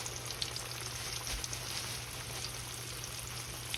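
Catfish fries in hot oil with a dense, steady crackling sizzle, moderately quiet and unbroken, and no voices over it.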